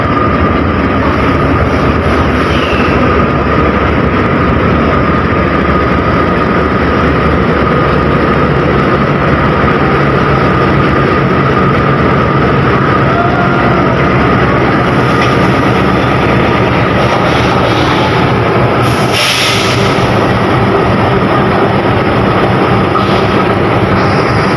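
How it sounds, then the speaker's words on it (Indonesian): An empty Jayabaya passenger train set is hauled from Cipinang depot toward Pasar Senen station through a busy Jakarta junction station, producing a loud, close, continuous roar of rolling wheels and engine that lasts the whole stretch, with a brief higher burst near the end. "rangkaian kereta api Jayabaya ditarik dari Dipo Cipinang menuju stasiun Pasar Senen"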